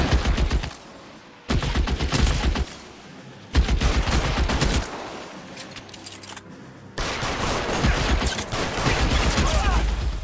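Gunfire in a L.A. Noire shootout: dense volleys of rapid automatic shots come in bursts, loud and close, with short lulls between them.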